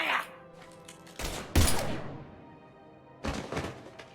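Gunfire in the video game Mass Effect 3, heard as three separate bursts of heavy thumping shots at mid distance with quieter gaps between them.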